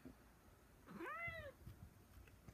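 A single short, faint cat meow rises and falls once in a quiet room, with soft background noise before and after.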